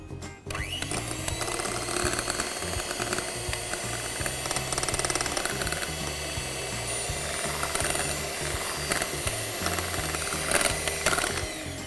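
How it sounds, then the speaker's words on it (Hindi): An electric mixer whirs steadily and close at high speed while melted chocolate and butter are beaten into eggs for a chocolate lava cake, a constant mechanical drone with faint rattling. "इसे अब हम स्लोली ग्रेजुअली इस अंडे के अंदर मिक्स करेंगे और साथ ही साथ इसे बीट करते जाएंगे"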